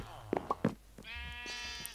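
Sheep in the Minecraft video game bleat a few times, short nasal calls close together, while a voice speaks over them.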